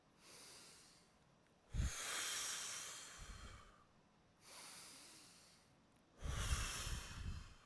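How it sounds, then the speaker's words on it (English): Slow, steady breathing during a vocal warm-up, with two cycles of air drawn in through the nose and pushed out through the mouth, each a soft hissing rush close to the microphone, separated by quiet pauses. "Really just to get used to breathing in from the nose and then through the mouth."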